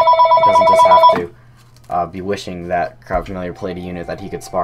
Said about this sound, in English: Sorry about the phone just rang.